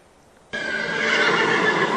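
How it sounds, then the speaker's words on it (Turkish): Horses neigh loudly and close by at an equestrian fair in Istanbul, a sudden whinny that sustains for over a second with hooves faintly clip-clopping, no talk. "Fuara katılan ziyaretçiler hem birbirinden güzel atları sevdi hem de onların çok özel şovlarını izledi."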